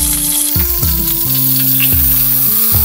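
Meat and shrimp dumplings fry in a pan over high heat with a starch-and-water wing batter, giving a loud, continuous close-up sizzle and crackle broken by bursts of popping, with no talk.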